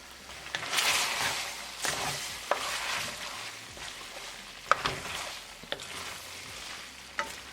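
Casarecce pasta with shrimp, marinara sauce and Parmesan cheese being stirred in a pan over a gas flame, giving a soft steady sizzle with repeated scraping and stirring strokes, close and moderately loud.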